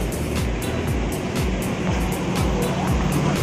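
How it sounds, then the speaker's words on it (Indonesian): Volvo B11R double-decker bus reversing to park at a terminal: a steady, loud diesel engine rumble with repeated short hissing bursts, likely air brakes or reverse alerts, continuous throughout. "jet bus 3 double decker bermesin Volvo B11R untuk tujuan ke Jember teman-teman armadanya, dan persiapan mau diparkir mundur terlebih dahulu"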